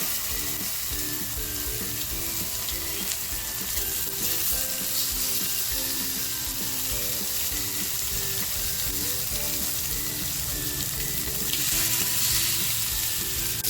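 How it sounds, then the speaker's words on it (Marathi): Silverbar fish frying in a little oil, a steady, dense sizzle lasting throughout with faint clinks, growing slightly louder near the end, with no talking. "आज मच्छी आहे ना मी अशीच फ्राय करणार आहे बघा थोडंसं तेल टाकते मी"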